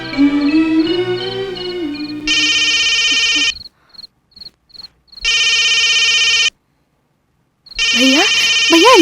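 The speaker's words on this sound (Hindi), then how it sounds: "भैया अंजलि का फोन है।" A telephone rings with a loud electronic ringtone in repeated bursts, with beeping tones and silent gaps between them, over music in a 2007 Hindi action film scene.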